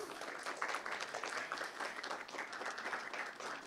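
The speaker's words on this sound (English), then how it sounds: "please give them a warm round of applause" An audience applauds the KitBash3d co-founders and CEOs at the start of an evening event, a steady wash of many hands clapping at moderate, fairly distant level with no break.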